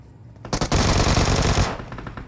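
Rapid automatic gunfire in the BGMI battle royale video game, a loud dense burst of about one second that trails off quickly, with no talking.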